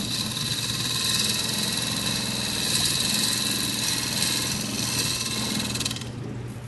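A wood lathe turns a workpiece at a woodworkers' meeting, giving a steady motor hum with a faint cutting hiss. It runs continuously at an even level with no talk.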